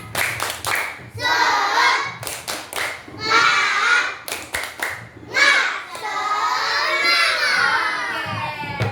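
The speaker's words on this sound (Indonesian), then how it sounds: "Ayo sekarang sekali lagi. Tepuk semangat." Children do a rhythmic clapping cheer in a classroom, with bursts of sharp patterned claps alternating with loud shouted chanting from the group.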